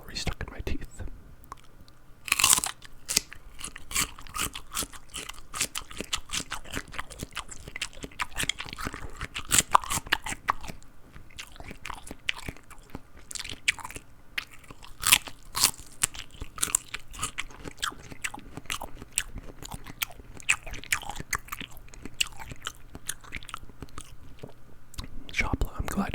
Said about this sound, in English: Let's have a celery.